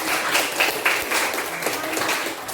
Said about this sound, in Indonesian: Iya, terima kasih tepuk tangan